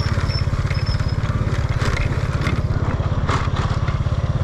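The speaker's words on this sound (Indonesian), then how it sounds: "terlalu ribut, terlalu berderak-derak dari motor yang saya naiki ini" The engine of a ridden motorcycle in Bentot village, Indonesia, rattles steadily and loudly up close, a fast regular chugging pulse with clattering noise on top, running the whole time.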